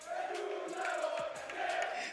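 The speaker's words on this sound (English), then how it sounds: "apparently the French community, they can cheer the loudest" A large crowd of French esports fans at a Fortnite championship roars and cheers loudly, with sustained, overlapping shouting and a few rising whoops, slightly distant and filling the space.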